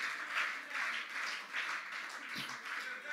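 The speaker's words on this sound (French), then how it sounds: "On peut applaudir Nathan." Quiet applause from a church congregation greeting a latecomer's arrival during a sermon, soft steady clapping in gentle pulsing waves, distant and low in level with no speech over it.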